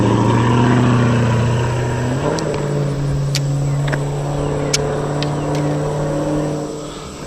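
A Camaro speeds over a creek bridge, its engine roar rising sharply and holding loud and close, with a few sharp clicks and ticks scattered over the drone.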